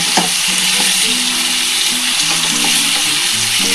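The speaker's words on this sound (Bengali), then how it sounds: "পনিরটা দিয়ে ভালো করে একটু কষিয়ে নিলাম" Paneer cubes stir-fried in a hot pan for chilli paneer give a steady, loud sizzle with scraping spatula strokes and faint clinks, running continuously with no talking.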